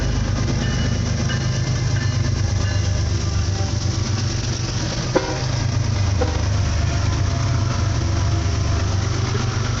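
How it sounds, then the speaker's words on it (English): A train rolls through a railway crossing in Rochelle, Illinois, a steady loud low rumble of engine and wheels that holds throughout, with no voices. "Here comes the train."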